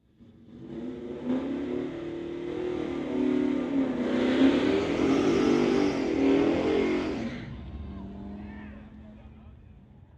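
A 1967 Ford Fairlane and a Camaro rev at a Friday night street-legal drag race, the engine roar swelling loudly for several seconds before fading away.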